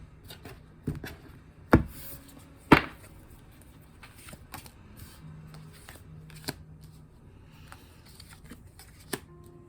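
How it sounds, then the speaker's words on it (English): A tarot deck being cut and handled, with a few sharp card slaps and soft shuffling rustles spread across a quiet background. "Oh, I forgot to cut the deck."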